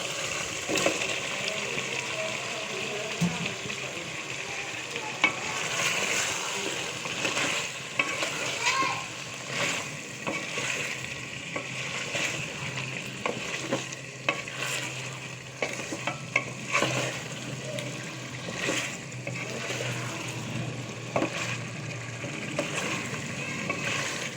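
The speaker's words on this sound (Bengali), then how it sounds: "এখন দুটোটা একসাথে একটু কষাবো" Chicken and ash gourd stir-fried together in a pan, giving a steady loud sizzle with repeated scraping strokes of a spatula throughout, close up and with no talking.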